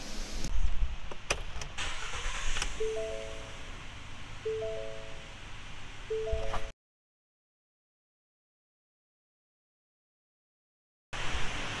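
A car engine starts with a short crank and settles into a steady idle after oil leak UV dye is added, with several tonal beeps and clicks, then the sound cuts to silence and resumes.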